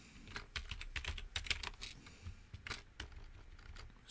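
Typing on a computer keyboard, a run of quick, fairly close key clicks in uneven bursts with brief pauses, moderately quiet and with no voices.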